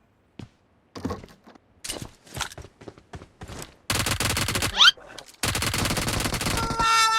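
Rapid bursts of M4 rifle gunfire in PUBG Mobile, played on PC: scattered single shots and short volleys early on, then loud sustained automatic fire, close and dominant, with no talking over it.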